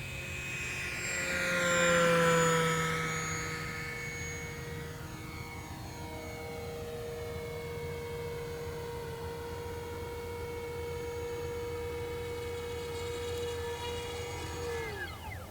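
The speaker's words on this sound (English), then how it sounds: "We'll do a full throttle pass and a vertical climb." A KAVAN Norden 1600mm RC model airplane makes a full-throttle pass, its motor whine rising as it nears and then falling in pitch as it moves away and climbs, steady and fairly loud.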